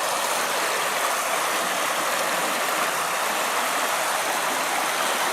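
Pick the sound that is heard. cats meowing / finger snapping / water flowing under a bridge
water flowing under a bridge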